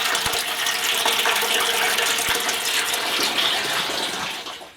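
Water gushes steadily through the coil of a home-brewery setup in a shed, a loud, continuous rushing flow that fades slightly at the end.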